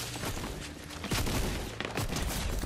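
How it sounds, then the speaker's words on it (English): Gunfire in the Fortnite video game: rapid bursts of shots crack and rattle in quick volleys, fairly loud and dense, with a brief pause before the firing resumes. No one speaks. "She's shooting me!"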